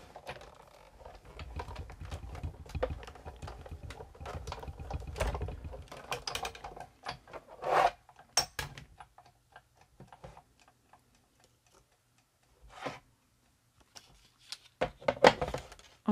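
A die-cutting machine feeds a plate with a die through its rollers to cut a strip of tickets, giving a run of close mechanical ticking and ratcheting clicks for several seconds, then quieter gaps and a few isolated clicks.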